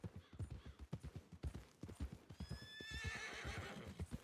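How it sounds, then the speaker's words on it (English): Horse in Red Dead Redemption 2, with steady rhythmic hoofbeat clip-clops close by, then a loud drawn-out whinny rising over the hooves near the end, no talk. "The horse is just a dickhead."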